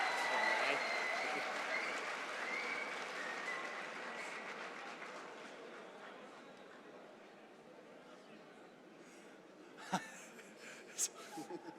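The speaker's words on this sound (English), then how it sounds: "I guess you get all the applause with that one." Audience applause at a college convocation ceremony for a lone graduate. The clapping is faint, distant and sustained and slowly tapers off, with laughter and murmuring among the crowd and a few sharp knocks near the end.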